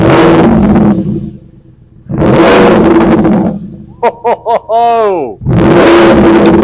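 Audi S5 with a 4.2-litre V8 and both exhausts open, roaring through loud sustained revs, then a string of sharp quick blips climbing in pitch before another full roar; people talk and exclaim between the revs.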